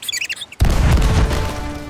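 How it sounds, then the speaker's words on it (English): Cannon fire in Sea of Thieves lets out a single heavy boom after a brief lighter sound, then a rumbling, roaring tail that lingers loud to the end. "now is the perfect time to use these cannons"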